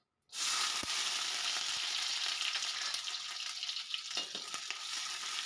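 Raisins drop into hot ghee and set off a sudden loud, steady frying hiss that carries on evenly, with a few faint clicks of a spoon later on, no voices.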